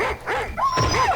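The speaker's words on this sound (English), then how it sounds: "There's dogs running around." Dogs bark and yelp in the video game WolfenDoom, a quick run of close, loud, overlapping yips and whimpering cries lasting about a second.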